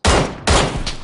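Two sharp, loud gunshots ring out close together in PUBG, about half a second apart, each with a short ringing tail. No one speaks.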